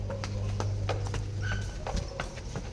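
A run of irregular hoof thuds on the ground as a buffalo walks nearby, with a low steady hum underneath.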